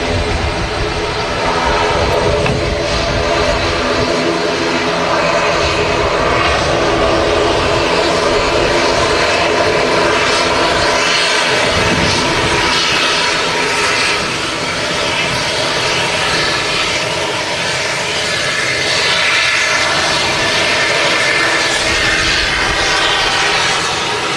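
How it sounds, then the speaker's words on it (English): An Airbus A330 jet of Jet2 at Manchester Airport, departing for Dalaman, roars with loud, steady engine noise that holds at full strength throughout, with a dense broadband rumble and no talk. "the A330 Jet 2 is off to Dalaman"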